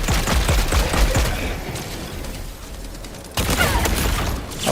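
Dense, rapid automatic gunfire in Helldivers 2, a continuous rattling barrage that dips briefly, then surges loud again, with mechanical clatter mixed in.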